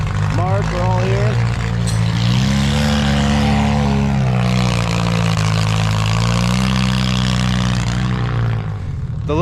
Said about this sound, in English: The little four bangers being loud as hell